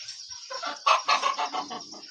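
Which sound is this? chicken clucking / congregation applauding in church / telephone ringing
chicken clucking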